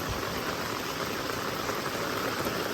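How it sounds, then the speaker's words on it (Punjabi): Heavy rain pouring nonstop on a village street early in the morning, a dense, even roar of water hitting the ground with no breaks and no voices. "ਮੈਨੂੰ ਕਹਿੰਦੇ ਬਾਈ ਫੁੱਲ ਸਪੀਡ 'ਤੇ ਮੀਂਹ ਪੈ ਰਿਹਾ ਲਗਾਤਾਰ"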